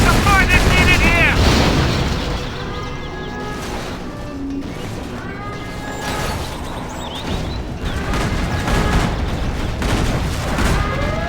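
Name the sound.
gunfire and explosions in battle, from video game C&C Generals Zero Hour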